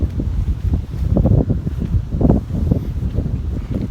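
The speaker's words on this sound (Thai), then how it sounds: "ลมมันแรงเพื่อนๆเอ้ย" Strong wind blows outdoors along a road, buffeting the microphone in loud, gusty low rumbles that rise and fall continuously.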